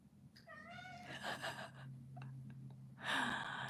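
A pet cat gives a rising meow up close, then further softer mews and a louder meow near the end, all quiet against faint background hum.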